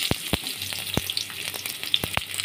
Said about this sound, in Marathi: त्याच्यामध्ये आपण कांदा फ्राय करून घेणार आहोत.